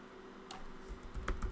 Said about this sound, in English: That's why it's not picking up, because I was not typing correctly.